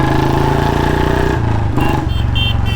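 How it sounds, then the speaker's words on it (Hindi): Royal Enfield Bullet Standard 350 motorcycle with a slight leak at the front of the exhaust pipe, idling loud and close with a steady low thump that shifts pitch midway. "आगे पाइप पे हल्की सी आवाज़ लीकेज हो रही है, इसलिए प्रॉपर आवाज़ नहीं आ पा रही है"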